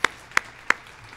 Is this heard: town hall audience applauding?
yes